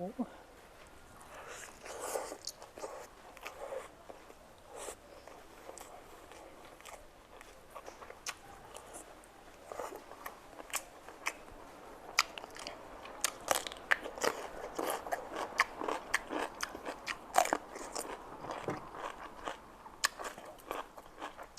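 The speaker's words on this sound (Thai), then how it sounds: "มาครับกินข้าวกินน้ำน้ำกัน" Someone eats chicken baked in a clay jar, with close crunchy bites, sharp crackles and chewing that grow louder and more frequent, while people talk around the meal.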